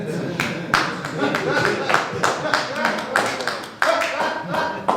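Scattered audience applause at a comedy show, uneven clapping with sharp individual claps rising and falling, mixed with voices and murmuring close by.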